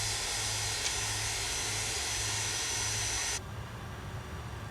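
A simulated MD-83 jet airliner's engines roar steadily through a takeoff in a flight simulator game, a loud broad whoosh that drops to a lower, duller drone near the end, with no voices.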